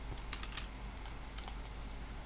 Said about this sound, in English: you can hear the clicking of my mic, of my mouse and my keyboard